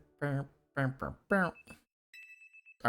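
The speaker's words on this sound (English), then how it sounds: "next day, alarm going off." In Pokémon Legends: Z-A, a short, pulsed, high electronic alarm rings near the end, just after someone talks over the game.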